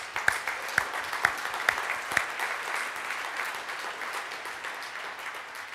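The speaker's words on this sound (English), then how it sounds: "a round of applause for those guys" Audience at a PhoneGap developer conference applauding the project's contributors. A few loud single claps open it, then a broad, sustained wash of crowd clapping continues at a steady level to the end.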